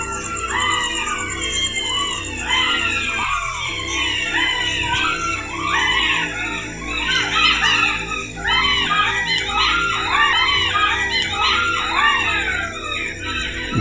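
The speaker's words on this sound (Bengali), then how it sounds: "এর মধ্যে আবার শুরু হয়েছে শিয়ালের ডাক।" Jackals howl and yelp at night in a dense, overlapping chorus that never lets up, loud and close, layered over a steady low background hum.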